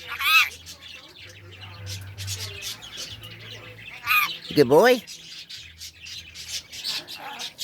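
A pet bird near a cat gives sharp chirps and a louder rising squawk, close by, with scattered short calls around them while someone speaks softly.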